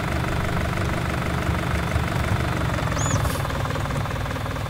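Small tractor engine idling in Farming Simulator 19, a steady low rumbling drone with slight knocking texture, constant and fairly loud throughout with no talk.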